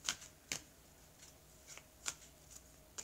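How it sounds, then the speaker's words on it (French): A deck of tarot cards is shuffled close by in a series of soft, crisp riffles and snaps spaced about half a second apart, quiet and alone. "Alors, donc je vais mélanger les cartes et je vais recouvrir le jeu."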